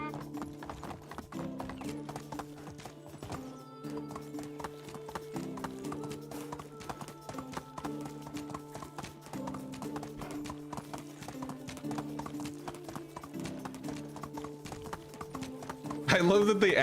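Donkey hooves clip-clop in a steady rhythmic trot inside the video game Medieval Dynasty, repeating for the whole stretch under a steady music-like hum, with a louder thud right at the end.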